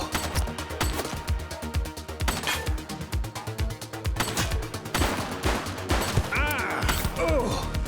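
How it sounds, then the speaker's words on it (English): Rapid bursts of gunfire in The Precinct police game, shots cracking in quick, uneven volleys that fill the whole stretch, loud and close, with a brief voice near the end. "She's shooting!"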